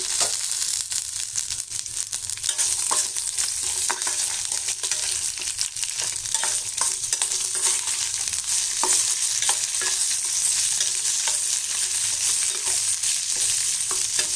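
Onion, garlic, ginger and green chillies sautéing in a pan, a loud continuous sizzle with repeated scraping stirs and clicks from a utensil, close by and without talk.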